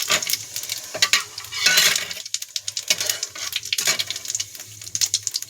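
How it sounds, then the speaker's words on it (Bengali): Cumin seeds frying in a pan at home: a bright, crackly sizzle punctuated by sharp spatula clinks and scraping strokes against the metal, close and fairly loud, with no voices. "এবারে প্রথমে জিরাটা দিয়ে দিলাম।"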